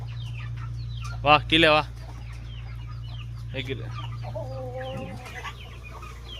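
Guinea fowl calling in a farmyard, a short loud burst of harsh, rapid chattering calls near the start, then fainter scattered calls over a steady low hum while a person speaks briefly.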